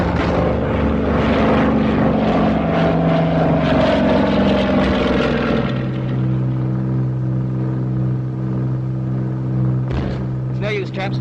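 Aircraft engines roar loudly and steadily in a wartime bomber film as the plane goes into a steep dive. The engine pitch shifts partway through, and brief voices come in near the end.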